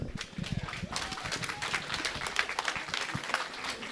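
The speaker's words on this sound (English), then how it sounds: "Applause, please." A banquet audience at a Colorado hall of fame induction claps steadily in a soft, continuous patter, with some crowd murmur underneath.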